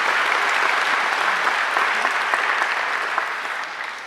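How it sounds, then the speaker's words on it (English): A graduation ceremony audience gives alumni volunteers a round of applause. Many hands clap in a loud, dense and sustained burst that fades slightly toward the end, with no speech over it. "so they deserve a great round of applause too"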